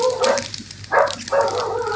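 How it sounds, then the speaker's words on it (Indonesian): A dog barks in the background of a live online broadcast, three clear barks spaced a half second apart, moderately loud and heard without talk. "Guk-gukmu itu di mana itu ada guk-guk?"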